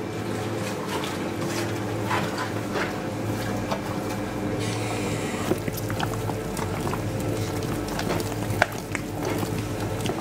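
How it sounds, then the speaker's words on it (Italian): A dough mixing machine churns water and pizza dough, a steady wet sloshing and slapping with a constant motor drone underneath, close and continuous, no voices. "e iniziamo a far partire la macchina."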